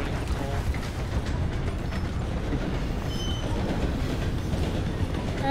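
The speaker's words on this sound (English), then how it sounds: "I nearly got hit by a train shooting the call." Train rumbling past in the video game Red Dead Redemption 2, a loud, continuous rolling roar with rattling wheels and faint squeals, close and steady throughout with little else heard.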